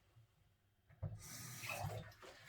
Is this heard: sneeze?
no